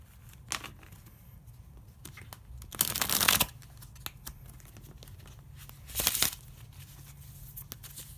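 Tarot card deck being cut and shuffled, soft papery taps and flicks broken by two louder riffling bursts, close and quiet with no talking.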